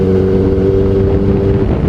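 A Kawasaki Ninja ZX-4RR sport bike's engine runs steadily at high revs, a loud, close, sustained drone with a strong harmonic tone that holds level, heard alone without speech.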